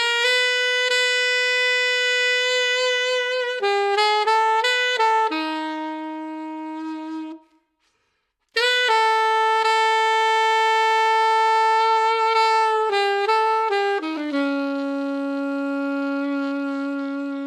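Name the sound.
saxophone playing jazz standard with embellishments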